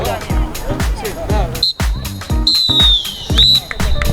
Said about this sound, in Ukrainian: І фінальний свисток лунає.